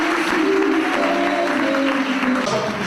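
A church congregation applauding God, sustained dense clapping mixed with crowd noise and voices, loud and steady throughout.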